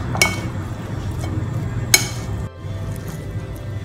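Ebly wheat salad being stirred with tuna oil in a bowl, with two sharp clinks of a spoon against the dish over a steady soft mixing rustle, close and moderately loud.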